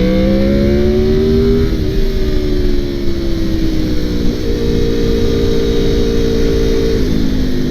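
A 2002 Honda VFR800 motorcycle engine drones loudly and steadily while riding, its pitch climbing, then stepping as it switches over and again near the end, all under heavy wind rumble.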